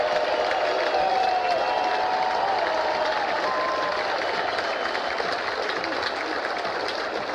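A record crowd at a college baseball super regional between Oregon State and Florida State, at Goss Stadium at Coleman Field in Corvallis, cheers and applauds in a steady, dense roar for the whole stretch.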